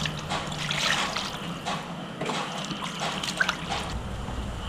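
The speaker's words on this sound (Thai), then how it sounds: "เดือดแล้วครับ" Water boiling in a pot while pork offal soup with pickled mustard greens is being cooked, giving a steady, faint bubbling and trickling sound that continues throughout with no talking.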